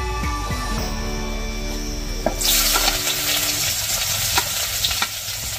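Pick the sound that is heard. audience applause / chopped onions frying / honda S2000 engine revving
chopped onions frying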